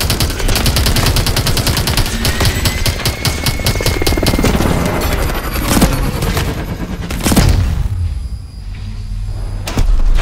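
Heavy automatic gunfire and rapid bursts rattle through a Call of Duty: Advanced Warfare battle, with booming impacts and explosions mixed into a dense, continuous loud barrage.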